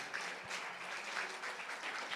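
Applause from the audience at a Gallegos singing semifinal, a steady wash of clapping heard at a moderate distance with no voices over it.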